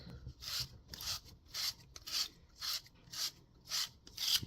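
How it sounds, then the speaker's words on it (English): A reaming tool cleans the cut edge of half-inch copper pipe in eight even, rhythmic rasping strokes, each a short scrape, close and fairly quiet with no talk. "We're going to use the inside piece here to clean the edge of the pipes."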